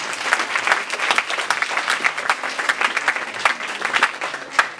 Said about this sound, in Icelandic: gefið þeim gott klapp